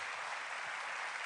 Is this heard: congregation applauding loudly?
yes